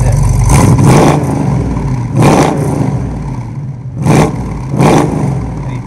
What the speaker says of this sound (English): what's big block Mopar sound like when you're at a car show and you start it up